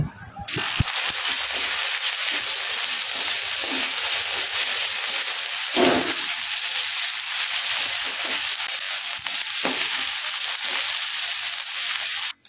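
Garlic, onion and ginger paste sizzling in a hot pan, a steady bright frying hiss throughout with occasional stirring scrapes and spatters.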